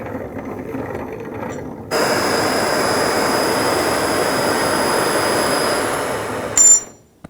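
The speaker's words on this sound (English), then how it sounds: "We're going to heat it up with a torch, and we're just going to spin the hub while we do that." A torch roars steadily while the rear wheel hub of a 2006-2010 BMW 550i spins to heat the bearing race, a continuous broadband hiss with a thin whine, ending in a brief louder burst.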